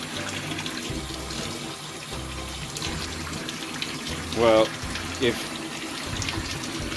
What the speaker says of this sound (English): water tap and you quickly fill up a drink, it sort of makes it a bit fizzy